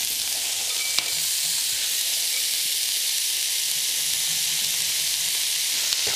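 Onions and soaked beans fry steadily in a pot with salt and pepper, giving a continuous even sizzle and hiss at close range, a faint clink near the start and end, no talking.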